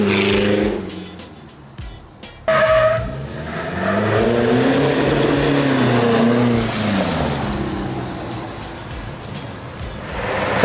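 A tuned Mitsubishi Strada pickup on a test run, its engine revving up and down in loud, close surges with a short gap, then a long rising pull, shifting pitch and road roar.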